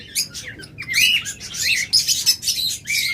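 Pet lovebirds, budgerigars and finches kept for breeding chirp and tweet in a busy, overlapping chorus of high, quick calls, close by and fairly loud, with no talking.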